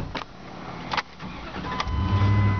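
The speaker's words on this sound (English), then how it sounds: "Starts right up." A 2003 Dodge Dakota V8 pickup engine with 164,000 miles cranks with a few starter bursts, catches, and settles into a steady rumbling idle, close and fairly loud.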